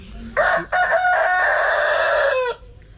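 An Orpington rooster crows loudly and close by in one long, drawn-out call, with a short cluck just before it.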